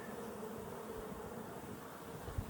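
Honey bees buzz at a backyard beehive in Colorado, a steady, fairly faint drone of many insects with no talk.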